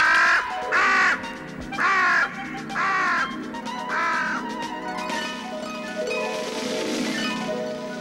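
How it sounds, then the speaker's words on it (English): A crow caws loudly and close by, about five harsh, rasping calls spaced roughly a second apart, then gives way to a sustained tonal swell with no talking. "It's a crow!"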